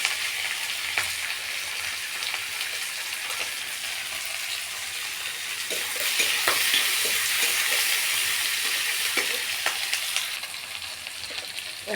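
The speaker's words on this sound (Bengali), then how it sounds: "টমেটো, কাঁচা লঙ্কা। সব কিছু ভালো করে ভেজে নেবো একসাথে" Onion, tomatoes and green chillies frying together in a pan, a continuous bright sizzle with occasional spatula scrapes and taps, steady and close, getting slightly louder midway, with no one talking.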